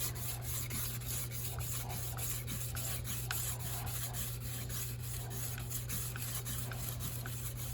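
Steel card scraper rubbed on a sharpening stone, a quiet continuous scraping with a rhythmic back-and-forth stroke repeating at a steady pace, close and faint.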